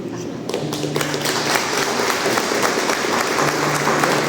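Sustained audience applause fills the room after a spiritist lecture on resurrection and reincarnation, dense and steady clapping that stays loud throughout with a faint murmur of voices underneath.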